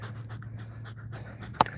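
A small dog pants steadily and rapidly at close range, a quick rhythmic breathing that runs throughout, with a brief sharp sound near the end.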